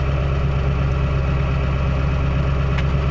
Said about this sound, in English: So you can see that thing's idling up